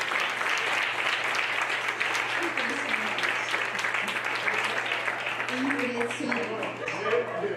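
An audience at a live lecture demonstration claps steadily, producing a dense, loud, continuous wash of applause that lasts throughout, with a low electrical hum and faint voices mixed in.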